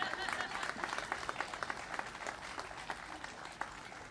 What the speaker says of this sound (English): That's worth a clap